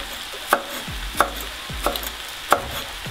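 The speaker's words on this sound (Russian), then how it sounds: "Нарежем свежие петрушечки, не очень мелко" A knife chops fresh parsley on a board with four crisp, evenly spaced strikes, close and clear against a quiet kitchen background with no talk.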